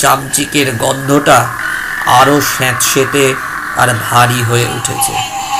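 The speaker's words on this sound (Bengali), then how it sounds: "শুধু ব্যাঙের ডাক শোনা যাচ্ছে" Frogs croak in a wet field at night, a low ambient chorus running steadily beneath continuous spoken narration.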